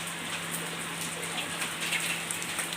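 Heavy rain falling steadily, a dense continuous hiss of drops hitting surfaces nearby, with no talking.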